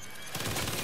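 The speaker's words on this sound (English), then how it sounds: "That's a fucking minigun." Minigun in the Saints Row video game opening up after a short lead-in, a dense, continuous rattle of rapid gunfire that fills the last half-second loudly.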